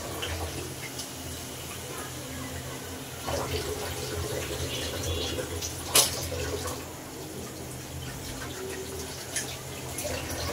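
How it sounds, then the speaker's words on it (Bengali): Water poured into a pot of chicken curry with peas and small potatoes cooking on a stove, a steady wash of running water beneath a constant background hiss, with a few faint clinks. "আর একটু পানি দিয়ে দেব।"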